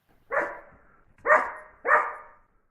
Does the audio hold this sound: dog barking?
yes